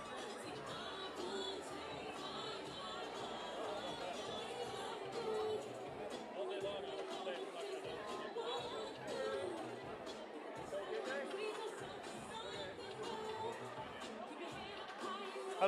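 Crowd chatter at a Maryland Senate election watch party, a dense, continuous babble of many overlapping voices filling a busy room at an even level throughout.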